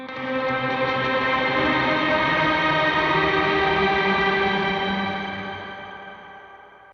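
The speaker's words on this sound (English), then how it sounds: "And then you go and drench your reverb to maximum and show them what you would use it for." Guitar run through a Meris Mercury X pedal with the reverb turned to maximum, a dense sustained wash of layered tones that swells steadily and then slowly decays into a long fading tail, with no voices.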